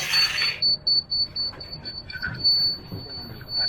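A laser level's high electronic beep repeating quickly and evenly, then slowing into irregular chirps, with some low scraping and movement underneath.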